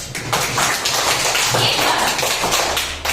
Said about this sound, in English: Now clap for yourself.